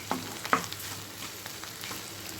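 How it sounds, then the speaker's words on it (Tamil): A spoon scrapes and stirs cooked rice with drumsticks in a frying pan, a few soft clanks early on over a faint low sizzle, close and quiet, with no voices. "நல்லா மிக்ஸ் பண்ணி விட்டுருங்க."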